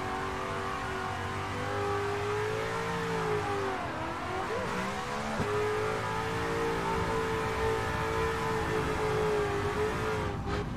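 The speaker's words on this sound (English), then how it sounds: "And a cool engine sound as well." Car engine in a realistic driving video game, holding a loud, steady drone that dips briefly as though shifting gears, then climbs and sustains again, close and continuous with no talk.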